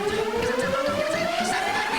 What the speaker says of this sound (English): In modern electronic pop music, a glide like this is often called a riser